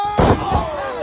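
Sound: wrestler body slam impact in a wrestling video game

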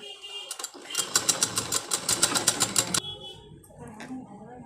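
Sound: sewing machine stitching a lined blouse

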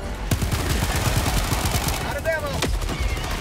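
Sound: gunfire in the video game Helldivers 2

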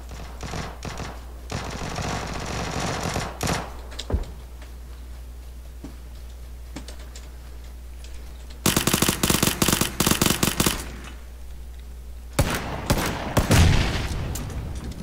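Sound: suppressed gunfire in the video game PUBG

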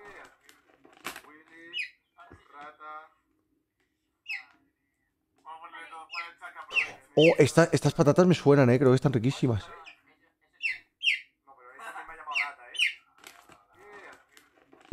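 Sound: pet chick chirping

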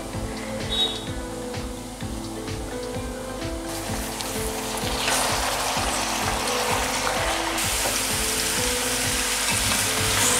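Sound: chicken frying in pan on high flame

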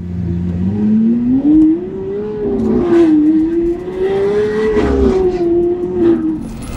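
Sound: Lamborghini Aventador engine accelerating and revving

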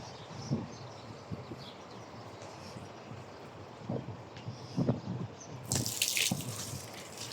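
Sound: water poured onto a plant

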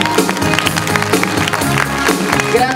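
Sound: audience applause for Guido Milani

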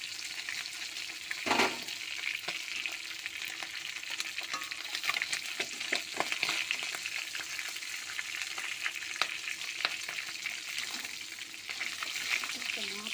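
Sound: fish frying in a wok

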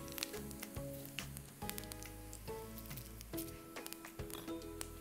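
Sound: fenugreek seeds sizzling in hot oil

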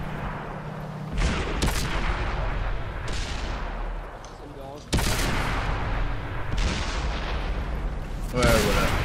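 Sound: tank cannon fire in World of Tanks video game

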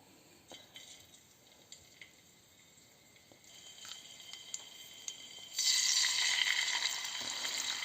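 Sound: meat ribs sizzling in frying pan

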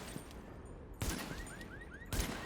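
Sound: gunfire shooting tires and glass in The Division video game

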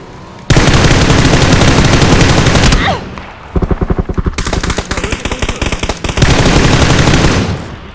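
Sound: gunfire in PUBG (Battlegrounds) video game

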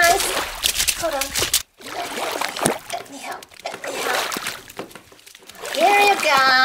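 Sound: splashing water in a bathtub with a toy doll

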